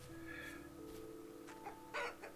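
Chickens clucking in the Minecraft-style modded world of Rusty Gears SMP, a few soft clucks and squawks over a faint steady hum, quiet and close.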